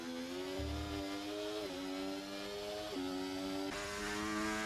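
F1 racing video game Formula 1 car on the Azerbaijan circuit, its engine a sustained buzzy whine with several short pitch drops at upshifts, steady and fairly close, heard alone without speech.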